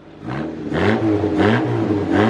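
A Honda Civic EG engine, a stock car, revs hard in repeated loud blips, rising and falling roughly three times in quick succession, close and dominant with a rough mid-pitched growl.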